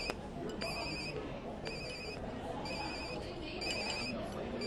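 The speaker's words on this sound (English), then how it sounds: "Aren't you going to answer your phone?" A telephone rings in repeated electronic bursts, soft and slightly distant, over a steady background hiss with faint voices.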